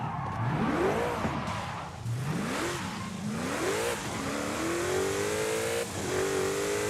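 A tuned car engine in Forza Horizon 5 revving hard through several rising gear pulls before settling into a sustained high-speed drone on a top speed run, loud and continuous with no talk.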